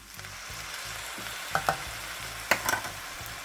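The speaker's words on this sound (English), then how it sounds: "last thing I'm going to do is add in the soy sauce itself" Soy sauce stirred into a frying egg fried rice, a continuous close sizzle with a few sharp scraping clicks of a utensil against the pan.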